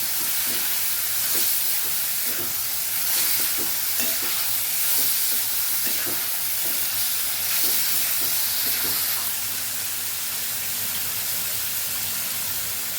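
Onions and tomatoes for a Kathiyawadi onion-tomato shaak frying in a pan, a steady close sizzle and hiss broken by repeated scraping stirs of a spoon, with no talking.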